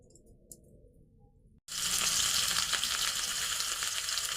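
Cooking oil poured into a pan on a clay village stove after frying potatoes with turmeric breaks into a sudden loud, steady sizzle that continues close by after a quiet start.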